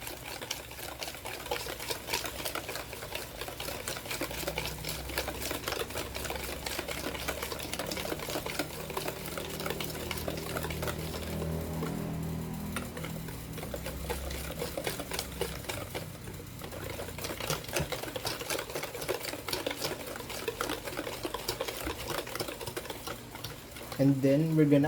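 Electric hand mixer beating eggs with two teaspoons of vanilla extract, a steady continuous whirring drone that runs near and loud throughout, with a brief clatter at the very end.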